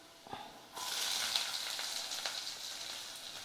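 Garlic and onion frying in a pan for a tamarind curry: after a quiet moment, a steady bright sizzle starts abruptly and holds close and fairly soft, with small crackles and stirring scrapes.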